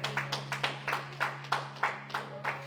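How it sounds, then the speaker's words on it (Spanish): A church congregation claps in a quick, regular rhythm during a Spanish-language worship service, each beat distinct and moderately faint over a steady low hum. "Dele otro aplauso al Señor."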